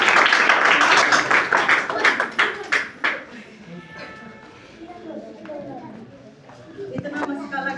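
An audience at a paramedical institute gathering breaks into brisk clapping, fairly loud for about three seconds, then dies away into quieter room sounds and a voice.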